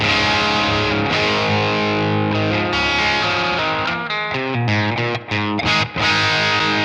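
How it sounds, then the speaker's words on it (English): Loud, overdriven electric guitar through a Mooer Preamp Model X vintage Marshall drive sound, sustained chords then choppier strummed riffs with a thick, crunchy distortion. "it's a great sounding Marshall, vintage Marshall's drive sound"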